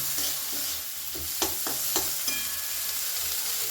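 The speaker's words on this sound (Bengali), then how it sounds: "এবার এর মধ্যে কর্নগুলোও দিয়ে দিলাম সামান্য একটু কিছুক্ষণ নাড়াচাড়া করে আমি" Carrot, capsicum and corn stir-fry in a pan with a steady close sizzle, broken by several distinct scrapes and taps of the spatula against the pan.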